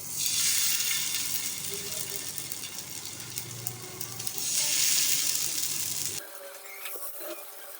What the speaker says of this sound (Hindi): अब हम इसमें डाल के अपने तमाम कबाब फ्राई कर लेंगे